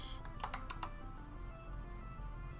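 Rapid bursts of computer keyboard typing, a quick cluster of about five keystrokes used as shortcuts while working in Blender, close and distinct over a steady background hum.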